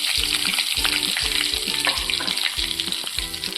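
Mustard seeds, cumin and asafoetida crackle and sizzle in hot oil, a steady loud frying hiss with a rhythmic low pulse running beneath it throughout, and no voices.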